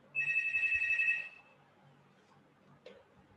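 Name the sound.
telephone ringing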